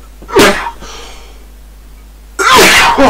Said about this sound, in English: Sneezing with a residue of the hay fever season.